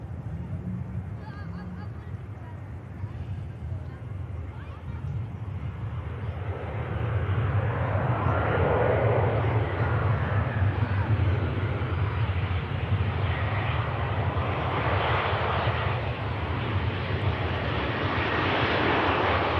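A passenger jet flying for EasyJet, arriving from Milan Linate at Manchester Airport, gives a steady, broad engine roar that swells after the first few seconds and holds loud and close.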